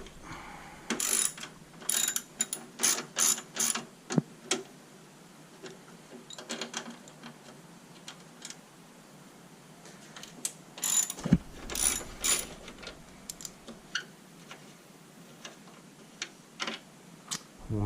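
A ratchet backs out fender and headlight bolts on a 2022-2023 Hyundai Elantra N, making quick bursts of clicking in short clusters separated by pauses, fairly close.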